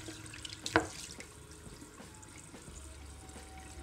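Water runs over a wooden item finished with TD Martyanov oil: a faint, steady trickle with one brief splash near the start, and no voices.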